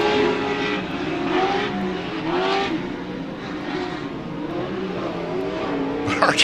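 Pro 2 short course race trucks at Glen Helen Raceway during the Great American Short Course round, engines roaring and revving continuously as trucks race past, loud and sustained with shifting pitch.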